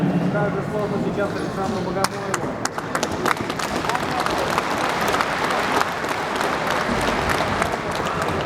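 Audience applause at a wrestling tournament award ceremony in Buryatia, steady dense clapping throughout with crowd noise and an announcer's voice over it.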